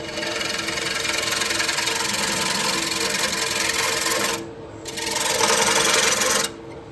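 A wood-turning scraper works the surface of a bowl spinning on a lathe, producing a loud continuous whirring scrape that drops briefly twice as the tool lifts off.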